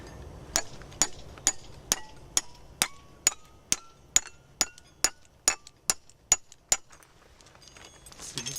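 A hammer drives a steel piton into a rock crack in about fifteen sharp, evenly spaced ringing blows whose pitch rises as the piton seats, close and alone.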